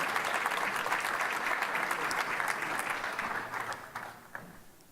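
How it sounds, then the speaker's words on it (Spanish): A church congregation at a Sunday service gives a sustained round of applause, dense and fairly close, gradually thinning out toward the end. "Dele el aplauso al Señor si le va a aplaudir todavía"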